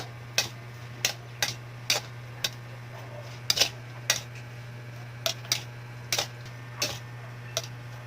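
Spoon clinking against a bowl while stirring chopped onion, pepper and salt together for kinilaw na kamias, a run of sharp, evenly spaced ticks close by, with a steady low hum underneath and no talk.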